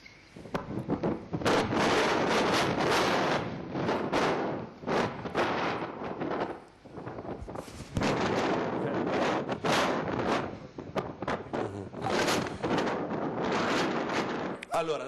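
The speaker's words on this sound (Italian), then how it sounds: "ascoltate la potenza del vento" Powerful wind from a night storm in Venice roars and buffets the microphone in loud, continuous gusts with brief lulls.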